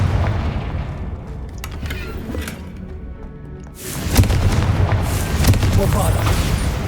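Fiery Confringo blast spell cast in Hogwarts Legacy, a loud booming burst that swells abruptly midway over a busy game soundscape with faint earlier thumps.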